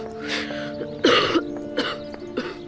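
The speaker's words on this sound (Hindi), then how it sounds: "जब से उठी है खांसी हो रही है।" Repeated harsh coughing from a woman indoors, four or five close, loud bursts spaced about half a second apart, with a low background hum underneath.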